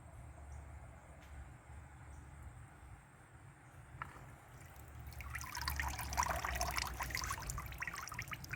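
A deer skull is lowered nose-first into a dip tank of water, giving a soft trickling, sloshing pour that builds toward the end, moderately near with no talk.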